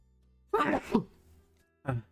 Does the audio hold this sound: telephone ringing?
no